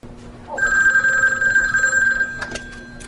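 A telephone rings in a scene from the horror film Hellraiser: Inferno, giving one sustained electronic ring tone that cuts off, followed by a short burst of quieter sound, heard alone without talk.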